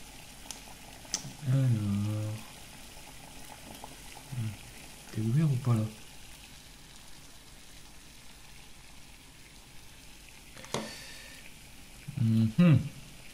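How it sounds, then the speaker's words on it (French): Water boiling in a pot while a thermostat from a 1.8 20VT engine is tested, heard as a low background simmer broken by several short, louder bursts of bubbling. "l'eau est déjà en train de bouillir"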